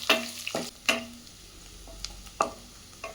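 Finely chopped onions fry in a pan for broken wheat upma: a soft, faint sizzle broken by several sharp spatula knocks and scrapes at irregular intervals, close by.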